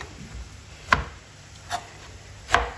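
A kitchen knife cuts through the scooped-out pulp of tinda (round gourd) on a board, giving three sharp, separate chops spaced about a second apart, close and fairly loud in an otherwise quiet room.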